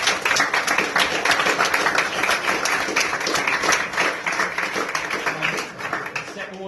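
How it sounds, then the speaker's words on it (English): Applause for the players at a football club's end-of-season presentation evening, a steady indoor round of clapping lasting throughout, dense and even, tapering slightly near the end. "So round of applause to players."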